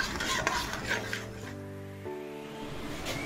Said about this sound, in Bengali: এই জন্য আমি অনবরত নাড়ছি এটা।